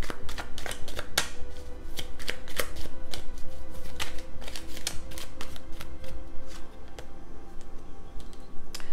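Tarot cards are shuffled by hand in quick, crisp riffles and taps, a dense run of sharp clicks repeating close by with no voices.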